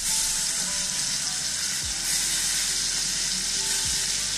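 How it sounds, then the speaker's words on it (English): Steak sizzles steadily in a hot pan with butter, a loud continuous frying hiss throughout with no pauses. "flip the steak now"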